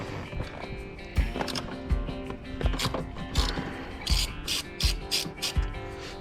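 A ratchet turning nuts off the seat mounts of a BMW E46 coupe, giving a steady series of sharp metallic clicks and knocks in a repeating rhythm, close and fairly loud, with no one talking.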